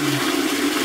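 Cistern of a toilet refilling after a water supply failure, giving a steady loud hiss of rushing water with a low tonal hum underneath, continuous throughout.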